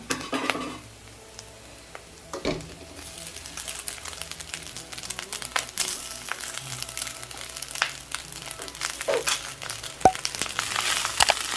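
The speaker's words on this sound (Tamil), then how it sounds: "இந்த ஸ்டேஜில் வடித்த சாதம் சேர்த்துடலாம்." Cooked, drained rice is tipped into a pan of sautéed ingredients for coconut rice and mixed, giving soft, irregular scraping, clinking and rustling. The noises grow busier as stirring continues, with a sharp knock near the end.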